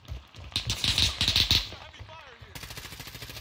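Automatic gunfire in an online multiplayer video game, heard as rapid rattling bursts in the first half, loud and close, then fading into softer game sounds and a steady tonal buzz.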